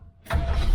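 The engine of a 1972 Chevy Nova starts. There is a short quiet lead-in, then the engine catches abruptly into a loud, close, low rumble that carries on to the end.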